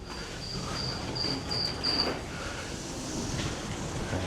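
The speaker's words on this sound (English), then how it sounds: "There's the crickets." Crickets chirping indoors near a lounge aboard the cruise ship Celebrity Equinox, a thin high trill repeating in short bursts over a steady hum of ship ventilation.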